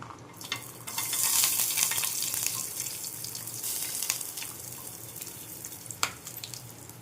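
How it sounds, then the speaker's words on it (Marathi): Coconut, peanuts, dal and sesame roast in a little oil in a pan, making a dense continuous sizzle with occasional scraping stirs and a sharp clink near the end. "एक चमचाभर मस्तपैकी तेलात भाजणार आपण थोडं थोडे तेल टाकून भाजणार आहोत"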